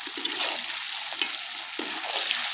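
Green chillies tempered in hot oil for a village-style desi breakfast, a steady close sizzle and frying crackle with a few sharper spits, heard alone.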